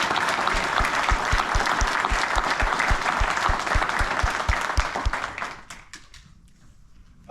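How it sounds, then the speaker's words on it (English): An audience at a Navy corpsman graduation applauds AAP and Dean's List recipients, with loud, dense clapping from a crowd in a hall and a few distinct, evenly paced claps standing out, before it quickly tapers off into near silence. "Please join me in giving the AAP and Dean's List recipients a round of applause."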